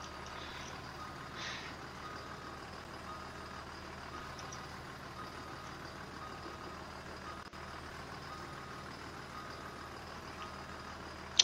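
A Thomas school bus reversing, its backup beeper repeating steadily over a low diesel idle and faint background rumble, heard from a moderate distance.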